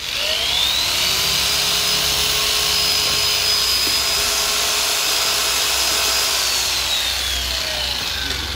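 A Makita 310W variable-speed jigsaw runs continuously at a steady pitch, loud and close, with a whining tone that rises briefly and then holds.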